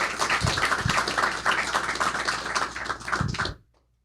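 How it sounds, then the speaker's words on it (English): Dense audience applause from many hands greets a U.S. senator at a live interview taping, steady and fairly close for about three and a half seconds before cutting off abruptly to silence. "Please give him a round of applause."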